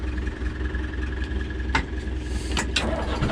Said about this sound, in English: Starting it up. Turn this key.